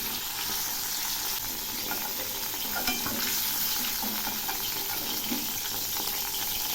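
Cauliflower pieces fry crisp in oil with a steady, even sizzle, broken now and then by faint stirring scrapes.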